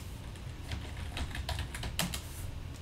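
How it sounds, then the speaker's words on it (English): A root password being typed on a computer keyboard during network setup on Debian, with a quick run of close, soft key clicks at an uneven rhythm against a steady low hum. "you should type in the correct password."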